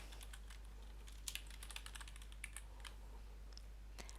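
Rapid, light keystrokes on a computer keyboard while entering a keyboard shortcut, irregular clicks with a few sharper taps, fairly quiet over a steady low electrical hum.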